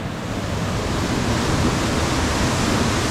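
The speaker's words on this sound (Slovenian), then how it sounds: "Tukaj je slap." Dense roaring rush of a waterfall in the Karst region, loud, broadband and continuous from close by, with no one talking.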